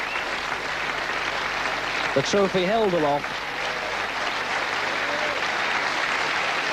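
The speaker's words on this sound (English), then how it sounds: "Klampár deserves the applause" Sustained applause rises from the crowd at a table tennis championship prize presentation, steady throughout, while a commentator speaks briefly over it.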